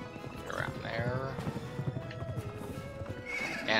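A horse gallops with rhythmic hoofbeats and lets out a whinny in the swamp area of the video game Pumpkin Jack, close and mid-level, with vocal-like game sounds layered over the hooves.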